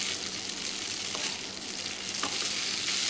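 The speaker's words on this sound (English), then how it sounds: "It's been 2 minutes. I've been stirring it." Hakka noodles fry in a pan while being stirred, giving a dense, even, close sizzle throughout with a couple of faint scraping touches and no speech.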